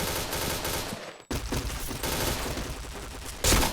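Rapid video game gunfire, chained headshots in a training session, dense and continuous with a brief gap near the middle and a louder burst at the end.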